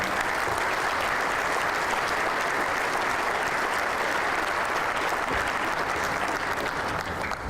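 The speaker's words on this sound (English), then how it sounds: "if we could give him a round of applause, I'd appreciate it" Audience applause at a city of Albuquerque dedication ceremony, a dense, steady wash of clapping from a sizable crowd that fills the whole stretch at even loudness without a break.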